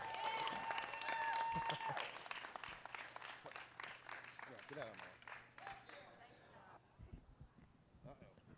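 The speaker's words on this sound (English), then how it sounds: "So, a big round of applause for downtown John Brown." A festival crowd in a park applauds an award recipient, steady clapping and cheering filling the space for several seconds before thinning out, with voices mixed in underneath.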